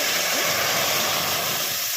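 Water poured into a pan of fried moong dal sets off a loud, steady sizzle and hiss that holds at the same level throughout, close up, with no talking.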